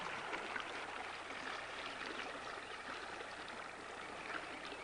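Fast, riffly trout stream water running over shallows, a steady soft rushing and burbling heard alone at a low, even level throughout.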